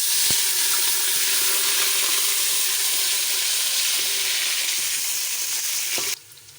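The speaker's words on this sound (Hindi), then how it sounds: "अब मैं इसमें डाल रही हूँ प्याज" Onions dropped into hot oil already holding cumin seeds crackle in a loud, steady sizzle close by, the broad hiss continuing evenly for several seconds before abruptly dropping away near the end, with no voices.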